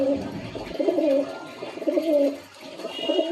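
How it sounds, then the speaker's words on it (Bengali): A male pigeon of a Kolkata blood-line breed coos in close repeated rolling phrases, a few throaty bursts with brief pauses between them and no talk over it. "তো এইটা হচ্ছে নর পায়রাটা।"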